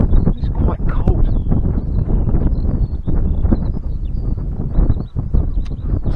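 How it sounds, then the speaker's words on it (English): Strong cold wind buffeting outdoors beside the flooded River Adur, a constant loud rushing gust noise across the microphone with faint bird calls above. "The wind's increased actually."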